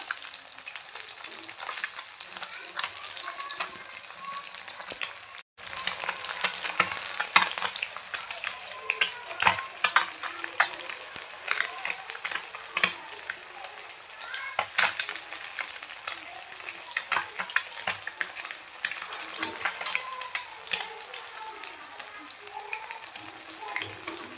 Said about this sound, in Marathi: तुम्ही कधी कधी फिश चोचतात, त्यामुळे चिमट्याचा वापर करावा.